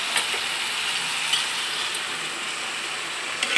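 Chopped watermelon rinds fry in spice paste, giving a steady close sizzle with occasional light scraping and stirring clicks, no voices.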